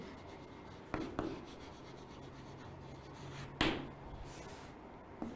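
Handwriting on a board or paper during an English lesson, faint scratchy strokes with a few sharper taps and knocks, no talking.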